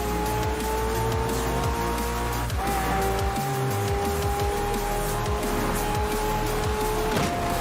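A car in Forza Horizon 4 driving hard with loud, sustained tire squeal and engine whine, continuous and close throughout with skidding slides.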